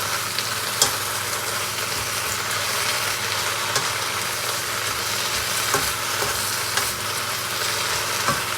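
Snow pea leaves stir-frying in a pan, a dense continuous sizzle that holds steady throughout, with a few faint clicks of stirring. The sound is close and loud, and no one speaks.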